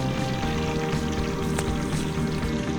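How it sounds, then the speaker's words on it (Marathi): Steady sizzling and bubbling of round bhaji batter fritters frying in hot oil at a small village food truck, a continuous dense hiss with no talking. "आणि आता मस्तपैकी गोल भजी सोडत आहेत."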